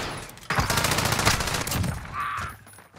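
Rapid bursts of submachine gun fire from an MP weapon in a multiplayer shooter game, a dense rattling volley lasting about two seconds, loud and close, trailing into a short high whine.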